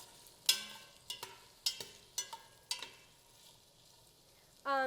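Vegetables stirred while frying in a pan, a series of sharp scraping strokes and clicks about every half second over a faint, quiet sizzle, ending with a brief louder burst.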